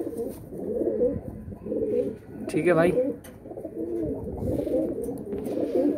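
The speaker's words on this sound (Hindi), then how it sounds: "ये है मेरे कबूतर" Domestic pigeons kept by a hobbyist coo softly in the background, partly under a man's speech.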